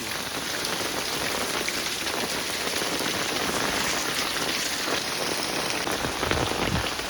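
Heavy rain pours steadily in a village during a storm, a dense, constant hiss that stays loud and even throughout with no voices.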